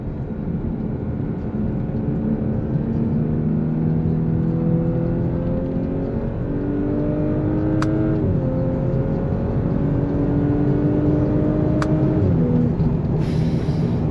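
A 2018 Audi S5 Sportback pulls hard in third gear, its engine note climbing steadily in pitch with a brief dip at each shift point, loud and continuous from inside the cabin.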